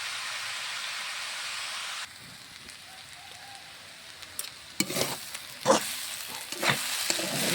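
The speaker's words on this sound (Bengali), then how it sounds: "বাঁধাকপি ভাজা চাপিয়েছিলাম" Cabbage fries in a wok with turmeric and salt, first a steady close sizzle, then quieter frying broken by several sharp scraping clatters of stirring.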